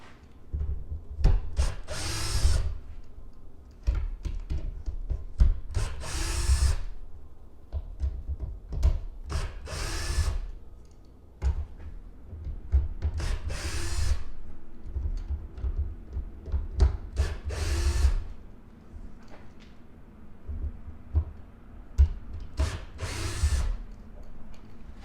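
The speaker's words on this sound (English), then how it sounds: "You should not use power tools, even though I know I'm doing it in this video." A power drill whirs in repeated short bursts, driving Torx screws during an air filter change on an Audi Q5 2.0 Turbo, with grinding, rubbing noises between runs.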